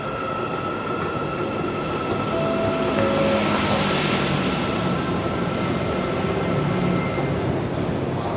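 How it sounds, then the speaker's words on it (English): A Kuala Lumpur MRT/LRT metro train rolls in with a steady rumbling roar, clacking wheels and faint squeals and hum, swelling gradually and staying fairly loud. "I hear a train. It's probably my train."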